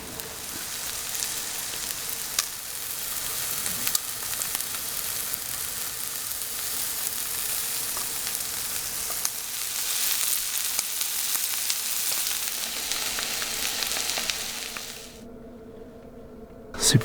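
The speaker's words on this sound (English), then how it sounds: "Super fast dinner, New York strip, shiitake mushrooms." New York strip steak and shiitake mushrooms sizzle steadily in a hot pan, a dense, even frying hiss that runs unbroken before cutting off abruptly near the end.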